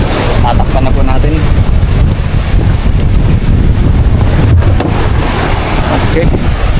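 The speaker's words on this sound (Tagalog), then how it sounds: "Ayan po ang dagat ngayon. Talagang mahangin po." Strong typhoon wind roars steadily across the microphone at sea, with constant broadband rushing and buffeting, loud and close throughout.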